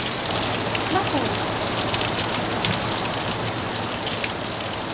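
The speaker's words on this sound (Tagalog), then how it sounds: "Umuulan kasi. Nakakabahan ako pag umuulan dito." Steady, heavy rain pours down in a dense, continuous hiss of drops striking surfaces, loud and unbroken throughout.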